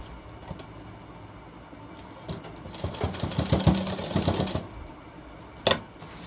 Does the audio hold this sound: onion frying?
no